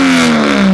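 A 1JZ engine in a Lexus SC300 drift car revs loudly up close, holding a strong steady drone with the pitch sliding slightly downward, with no talking.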